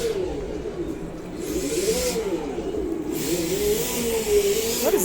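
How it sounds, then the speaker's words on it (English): Drift cars rev at a car show in Riyadh, their engines holding a loud, continuous wavering drone that rises and falls, with hissing crowd noise around them. "What is that noise? Ah, drift cars."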